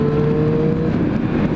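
Triumph Street Triple R motorcycle with a stock exhaust and engine, ridden on a test ride, holds a steady loud engine drone with a sustained tone and no voices.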